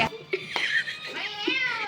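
A cat meows several times in short, rising and falling cries, close and fairly quiet, with light handling noises between them.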